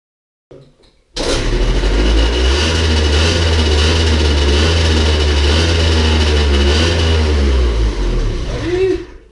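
A Honda Wallaroo moped engine coughs briefly, then starts after eight months of sitting and runs as a loud, steady close idle with slight revving, fading near the end.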